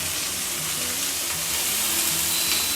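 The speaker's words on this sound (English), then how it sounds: "So into a pan, I want to hear a bit of a sizzle." Sage and onion stuffing balls sizzle in a hot frying pan, a steady close crackling hiss throughout.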